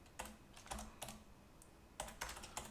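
Typing on a computer keyboard, a few scattered, fairly quiet key clicks in small irregular clusters, heard alone without any talk.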